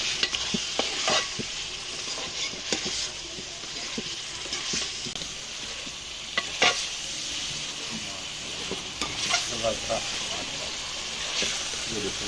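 Beef with salt, garam masala, coriander, turmeric, red chilli, karahi masala, black pepper and yogurt sizzles in a karahi, with a constant frying hiss broken by scraping stirs and clanks of the spoon against the pan.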